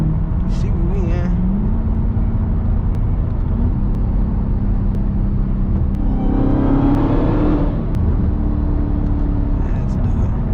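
Widebody Dodge Hellcat driven at night: a loud, continuous engine drone and road rumble throughout, with a rising rev swell around the middle, and voices talking over it.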